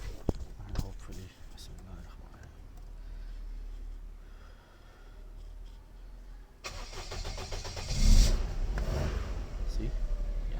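An automatic Toyota Duet with a bad fuel pump cranks and then catches, its engine roaring up loudly partway through and settling into a steady idle, with quiet talk before it.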